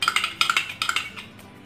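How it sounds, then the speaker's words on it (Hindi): A pan set on a gas stove with ghee spooned in for South Indian coconut chutney, heard as three quick clusters of bright metallic clinks and scrapes, close and fairly loud, fading at the end. "तो चलिए गैस ऑन करके पैन रख लेते हैं।"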